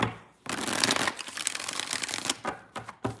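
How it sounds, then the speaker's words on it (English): Tarot cards shuffled by hand: bursts of crisp riffling and flapping close up, several quick shuffles with short pauses between them, and no voices. "Let's get 5 shuffles."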